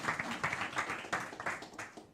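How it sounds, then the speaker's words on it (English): An audience claps in a small crowd at a game design talk, a steady, moderately loud patter of hands running throughout with no voices over it. "Big round of applause for Guillem."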